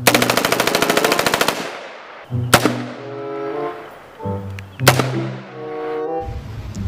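A rapid burst of automatic M4 rifle fire, then two loud single gunshots a couple of seconds apart, each with a ringing, echoing tail.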